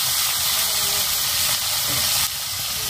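Chatpati fish dropped into hot oil sizzles and hisses steadily, a dense close frying sound that holds at an even level throughout with no voices over it.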